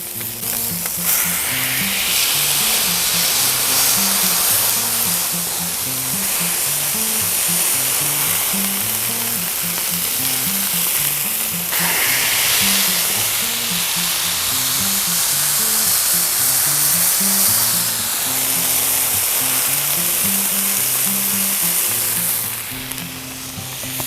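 Homemade brisket smash burger patties sizzle loudly and steadily on a hot Blackstone griddle, a dense broadband fry that holds without a break for the whole stretch, no voices over it.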